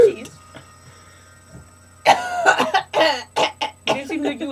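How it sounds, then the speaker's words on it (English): Several harsh coughs burst out close by after a short quiet stretch, mixed with throat-clearing sounds and a voice. "You seem like you have a little cough there,"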